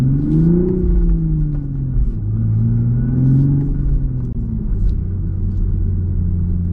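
A 2023 Toyota GR Supra 3.0 with six-speed manual cruises slowly through track pits, its engine a steady, close low rumble with gentle rises and falls in pitch as it rolls along, no voices over it.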